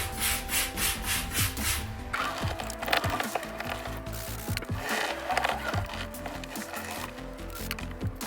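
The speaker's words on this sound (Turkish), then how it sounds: "Arabanızın farının zımpara işlemi bittikten sonra" Steady back-and-forth rubbing of sandpaper on a Volkswagen Passat's hard plastic headlight, a continuous scratchy hiss with repeated strokes, close up and without talk.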